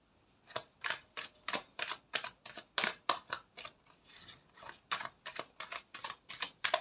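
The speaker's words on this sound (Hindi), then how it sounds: "देखो मैं यहाँ पर शफल कर रही हूँ" Tarot cards shuffled by hand in quick, rhythmic bursts of crisp papery flicks, about two per second, close and fairly loud with no talking.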